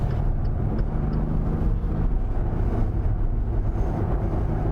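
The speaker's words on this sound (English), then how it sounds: "It's the only diesel to make me smile with that noise. I know it's fake, but it still sounds fucking great." A Maserati diesel engine with an artificially enhanced exhaust note while driving, a steady low, throaty drone that stays loud and close throughout with no pauses.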